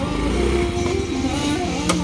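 Yamaha Mio motor scooter engine idling and puttering close by, a loud, steady low drone with a slight rise, with a voice talking over it.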